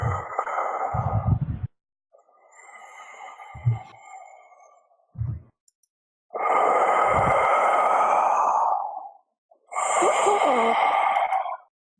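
A game master imitates deep breathing coming from a hole in a large tree trunk, producing slow, heavy exhaled breaths with gaps between them, close and fairly loud, mixed with some low vocal sounds.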